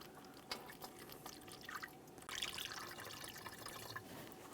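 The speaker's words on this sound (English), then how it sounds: "To make sure I don't spill too much here, I'm going to use a funnel, and I'm using universal coolant." Universal coolant is poured through a funnel into an Acura MDX coolant reservoir. There is faint trickling and dripping liquid, with a slightly fuller pour near the middle.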